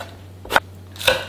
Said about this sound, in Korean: 가지도 마찬가지로 가지도 썰어주시는데요